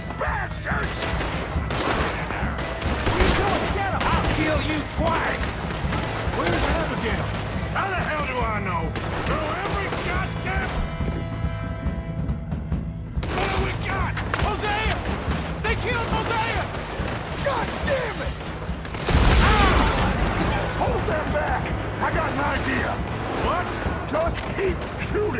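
Sustained gunfire from a shootout in a video game, with dense shots and booms running throughout amid game music, effects and shouting voices.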